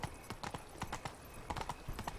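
A horse's hooves clip-clop in a steady, brisk rhythm in The Witcher 3, faint and somewhat distant, with no voices over them.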